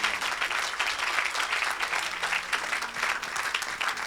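A church congregation applauds and cheers for Jesus, with dense, sustained clapping from a sizeable crowd that fills the room continuously.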